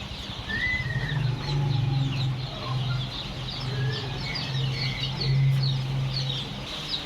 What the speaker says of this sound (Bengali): এখানে কিছు ফাউমি মুরগির বাচ্চা দেখা যাচ্ছে তিন চার দিন বয়সের